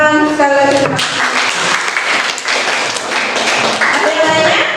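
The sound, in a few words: classroom applause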